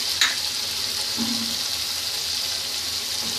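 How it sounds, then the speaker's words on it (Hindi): Spice masala fries in a pan for sev and tomato curry, giving a constant hissing sizzle with a light clink early on, close and fairly quiet, with no voices. "मसाला भून रहा है हमारा"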